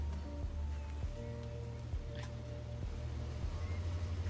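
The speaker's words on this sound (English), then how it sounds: "Highly contaminated rain." Highly contaminated rain falls in the apocalyptic survival city-builder Endzone A World Apart, a soft continuous patter layered under steady game music tones.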